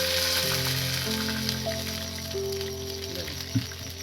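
Water hits a hot pan of spices and green chillies while making dhokla, giving a sustained bubbling sizzle with steady tonal hissing and one brief clatter near the end.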